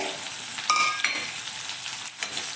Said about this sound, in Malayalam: ഇത് നമുക്ക് ചെറുതായിട്ട് ഒന്ന് വഴറ്റി കൊടുക്കാം